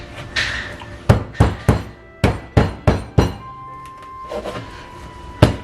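A knife chops through fish on a cutting board in a series of firm, evenly spaced thuds. Several close chops land in two quick runs, then a final heavy strike, with no talking.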